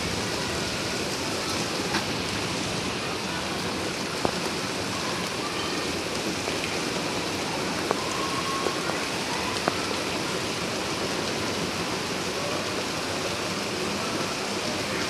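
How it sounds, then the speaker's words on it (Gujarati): Steady heavy rain hisses and patters on surfaces nearby, with water pouring from a rooftop pipe, and a few sharper drips and taps standing out now and then. "હા બહુ મસ્ત વરસાદ આવે"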